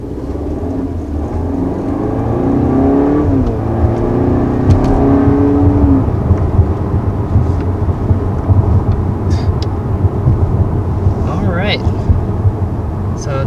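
Cabin drone of a 2020 Audi A4 with the 2-liter TFSI 45 engine driving on the road, a steady low engine and road rumble that rises as it accelerates early on, then settles into a constant hum.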